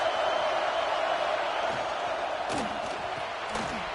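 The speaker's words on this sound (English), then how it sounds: "This crowd trying to make life miserable for this offense." A college football stadium crowd at an Aggies game keeps up a steady, loud, wide roar that barely varies, with a commentator's voice faintly riding on top.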